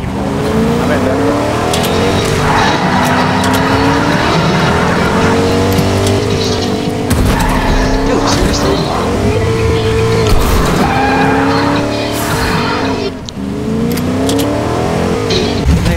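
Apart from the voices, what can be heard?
truck driving in a video game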